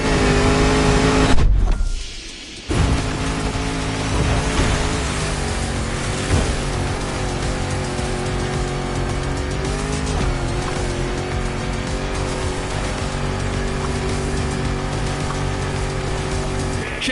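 A powerful 70-year-old British car with a 300-horsepower engine in the racing game Motorfest, revving hard with steady loud roar and tyre squeal throughout, broken by a brief dip near the start.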